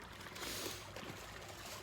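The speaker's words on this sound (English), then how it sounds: "You can see this creek runs down." Cold, spring-fed creek water trickling steadily past a roadside spot near a farm, a soft continuous broadband wash with no voices over it.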